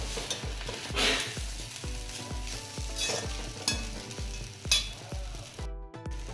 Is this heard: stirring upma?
yes